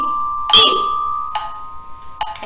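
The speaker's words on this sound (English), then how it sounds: "I can show you one time up close and personal with the bells." Handbells ringing in a simple percussion exercise: three clear bright strikes, each leaving a sustained ringing tone, loud and close, with no voices.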